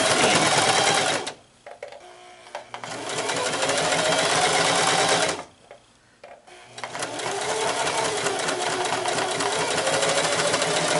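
A sewing machine stitches a 3/8 seam on a fabric mask in two long loud whirring runs, with brief pauses between bursts, close up and with no talking.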